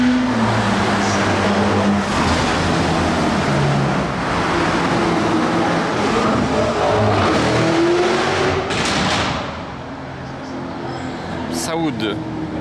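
A Bugatti sports car accelerating hard through the gears at a carspotting outing, its engine note climbing and dropping between shifts, loud and close, with people talking over it.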